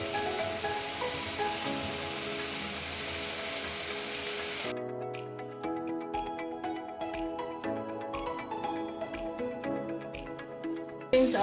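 Smokies and tomatoes frying with turmeric, Spanish paprika and garam masala in a pan, giving a loud, steady sizzle for several seconds, then a quieter crackle with scattered pops and spits.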